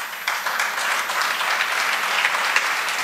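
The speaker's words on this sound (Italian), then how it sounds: "è partito l'applauso" Audience at a talk on the fight against the mafia breaking into applause, a continuous, fairly loud burst of many hands clapping at once, steady throughout.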